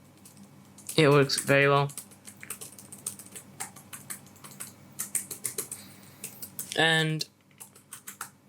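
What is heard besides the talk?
typing on Razer Blade 15 2020 laptop keyboard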